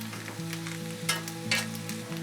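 Saffron noodle cake with cheese frying in a pan over medium-high heat, a steady close sizzle that runs alone throughout with a few brief louder crackles.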